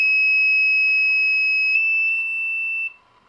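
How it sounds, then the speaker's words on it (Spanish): An active buzzer on a homemade radio-control alarm circuit gives a loud, steady, high-pitched electronic tone for about three seconds, then cuts off abruptly. "en vez de un zumbador activo, podríamos poner una alarma"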